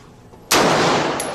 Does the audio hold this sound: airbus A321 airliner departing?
no